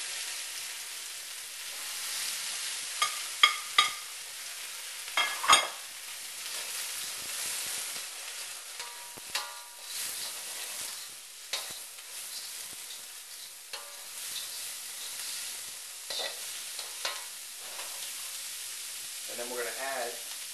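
Beef fried rice ingredients sizzle in hot oil in a wok while being stirred, a continuous bright hiss broken by scraping and clanking of the utensil, close-up, with occasional speech in the background.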